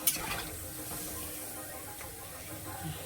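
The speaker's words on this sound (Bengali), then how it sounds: "এবার জল দিয়ে দিচ্ছি, জল দিয়েই দেবো" Water poured into hot spiced oil for a fish curry sets off a sharp burst of hissing, which settles into a continuous, moderately quiet sizzle and bubble in the pan.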